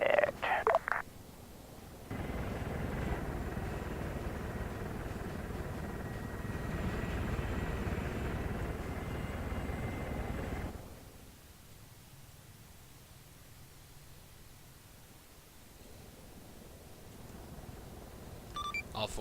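Helicopters fly in the military video game Arma 3, giving a steady broadband rotor roar that holds for about nine seconds and then drops to a quieter, distant rumble.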